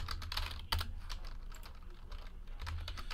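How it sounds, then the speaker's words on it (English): Someone types on a computer keyboard, a quiet close-up run of irregular key clicks with a few sharper taps over a low background hum. "I'll type in TWC in the chat"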